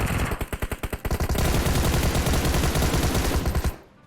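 Rapid automatic gunfire in the PUBG Mobile video game: a burst of distinct close shots followed by a sustained loud stream of fire that cuts off abruptly near the end.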